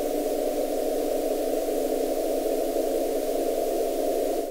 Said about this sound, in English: Our scientists found a strange radio activity on the surface of the Titan, encoded traffic sound like this.